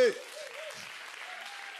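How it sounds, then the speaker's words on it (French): A church congregation applauds, a soft, steady patter of clapping that runs briefly and evenly at a moderate distance. "Est-ce qu'on peut acclamer le frère?"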